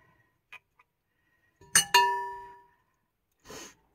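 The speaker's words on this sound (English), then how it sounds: "Glass dishes." Glass dishes clink sharply together close by, one bright ringing clash that decays slowly, followed later by a shorter rattling clink, with soft handling noises between and otherwise quiet.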